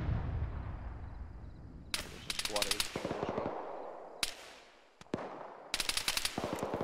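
Gunfire in the Arma combat game, with rapid machine-gun bursts in several separate volleys and single sharp reports, loud and close against a rumbling background.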